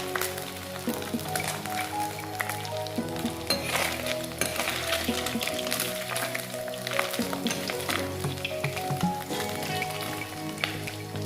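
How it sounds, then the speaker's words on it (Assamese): Small fish sizzle steadily in hot oil in a pan, a dense, even crackle with scattered pops that stays close and fairly loud throughout, with no voices. "মাছখিনি ভালদৰে এতিয়া ভাজি হৈছে"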